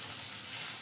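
Rohu fish pieces frying in hot oil, a steady close hiss and sizzle throughout this brief moment with no other sounds.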